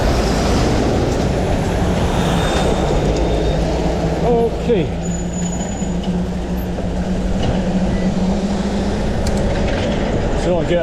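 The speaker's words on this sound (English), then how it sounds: "I decided to pull in at this lay-by to let all the lorries behind me pass." Heavy lorries passing on a road beside a lay-by, a continuous loud rumble of traffic with rising and falling engine drone close by, no talk.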